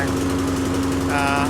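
A lawn mower engine runs rough and rich close by, a steady droning hum with a faint uneven pulse.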